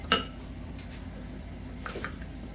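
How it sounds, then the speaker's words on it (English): Eggs being whisked in a bowl for babka dough, with a sharp clink near the start followed by faint, sparse tapping against the bowl, quiet and close with no talking. "now we are going to whisk up our 4 eggs a little bit"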